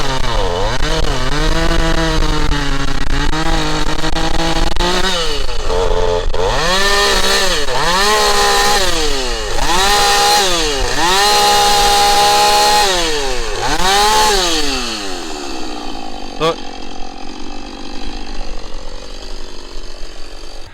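A chainsaw engine roars loudly and continuously while cutting down trees, its pitch rising and falling repeatedly as it revs, then settling into a rougher idle.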